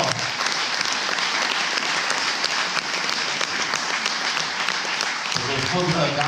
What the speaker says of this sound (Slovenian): Gospod Gabrovca je še enkrat zaploskal